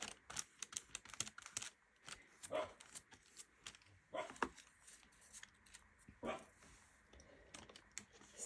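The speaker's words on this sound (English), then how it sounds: "You can hear the dogs barking in the background because there's 3 dogs here" Several dogs barking in the background of a craft room, short scattered barks heard faintly behind clicking and paper-handling noises.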